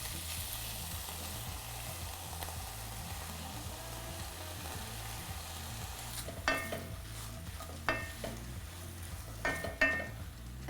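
Broccoli cooking in a hot pan with browned garlic, a faint continuous sizzle under a low hum, joined in the second half by several distinct stirring scrapes and clinks.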